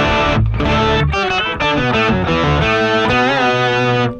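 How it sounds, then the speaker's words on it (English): Distorted electric guitar lead with a thick octave-down layer from an octaver effect, playing a sustained melodic phrase of held and bending notes, loud and continuous. "Maybe I want my octaver and my lead to go together"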